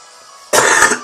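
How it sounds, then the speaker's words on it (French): A person coughs loudly and close up, a dense burst of several harsh coughs following a quiet stretch, then another short cough right at the end. "Cette toux ne s'arrange pas."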